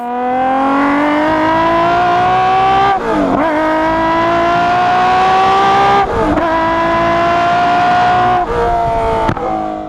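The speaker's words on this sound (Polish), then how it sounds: "zapominamy, jaką piękną melodię może zagrać 12 cylindrów" A twelve-cylinder V12 engine revving hard through rising gears, loud and close, each climbing howl cut by a brief shift break before rising again.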